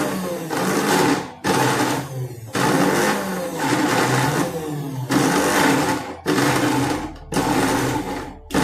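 A mixer grinder pulses ivy gourd chutney in loud bursts, about seven short runs of whirring motor roar, each cut off by brief pauses.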